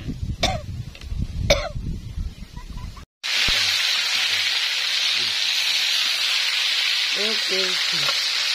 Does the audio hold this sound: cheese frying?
yes